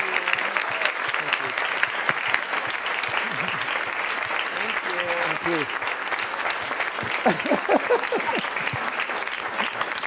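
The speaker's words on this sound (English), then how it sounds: "I think we should applaud our two speakers for giving us so much wisdom" An audience applauds its two speakers at the close of an evening talk, a sustained even patter of many hands with voices and brief speech mixed in over the clapping.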